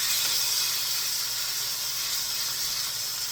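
Breaded veal searing in a hot iron pan, a continuous bright sizzle and hiss at steady loudness from start to finish with no talking.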